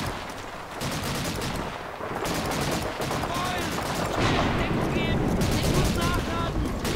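Bursts of gunfire from the video game Call of Duty 2, including MP40 submachine gun fire, crackle as repeated rapid shots over roughly seven seconds. The shooting is moderately loud and mixed with game ambience and a voice talking.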